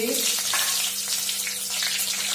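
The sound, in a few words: dried red chillies and bay leaves frying in oil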